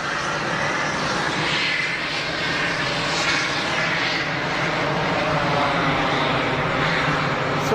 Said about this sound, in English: Big air start noises from the Air Malta Airbus.